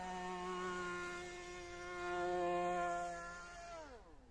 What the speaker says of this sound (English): not very happy with this motor, this new motor I've got.